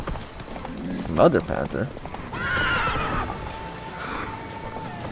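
Roach the horse in The Witcher 3 gallops with steady clip-clopping hooves and lets out a loud neigh partway through, while someone talks excitedly over the game sounds.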